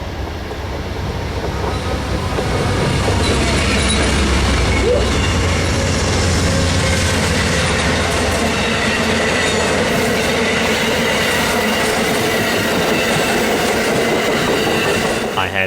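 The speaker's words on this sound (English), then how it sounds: "Amtrak Train 19 is seen heading westbound for its next station stop at" Amtrak Train 19 rolls past westbound near Cook Springs, heading toward Birmingham, a loud sustained rumble with rhythmic wheel clatter and some wheel squeal that lasts the whole fifteen seconds.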